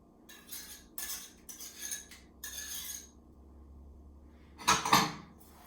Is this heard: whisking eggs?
yes